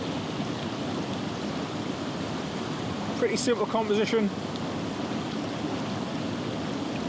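River water flowing near Glencoe in the Scottish Highlands, a steady broadband rush running throughout, with a person talking briefly in the middle.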